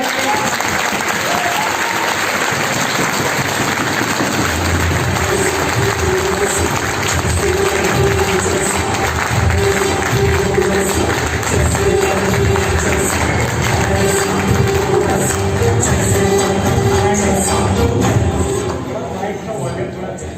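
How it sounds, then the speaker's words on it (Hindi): Sustained, dense audience applause at an event in Nainital, loud and steady throughout, with some crowd noise mixed in, easing slightly at the end. "मैं चाहूंगा उनके लिए जबरदस्त तालियां होनी चाहिए"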